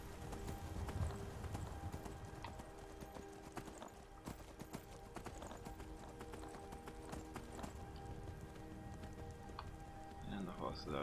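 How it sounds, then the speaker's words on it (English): A horse gallops in Skyrim with rapid, steady hoof clip-clops held throughout, fairly quiet and mixed with faint rain-like noise. A brief snort comes near the end. "And the horse is out of stamina."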